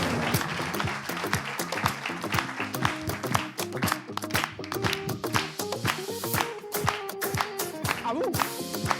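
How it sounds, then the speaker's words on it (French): Audience applauding Miss Ruth and Eva at a competition round, with clapping over loud rhythmic music that carries strong beats and tones throughout. "merci de faire un tonnerre d'applaudissements pour Miss Ruth et Eva"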